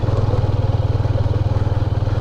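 Motorcycle engine thrumming steadily up close at low revs while the bike rides over a bumpy, jump-filled mountain track toward Shimshal Valley in Upper Hunza, Gilgit Baltistan, handlebars shaking; a continuous pulsing drone with no voices.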